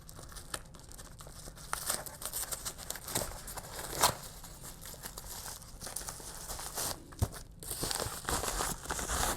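A paper mail envelope holding baseball trading cards is torn open by hand close up. Brisk crinkling and ripping bursts come irregularly over several seconds, fairly quiet, with no talk.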